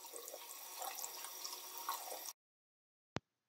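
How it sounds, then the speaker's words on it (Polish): Running tap water rinses caught aquatic larvae such as glassworm larvae, a steady close splashing stream that stops abruptly, followed by silence and a single short sharp knock. "I tak złapane robaczki ja teraz wypłuczę sobie pod bieżącą wodą"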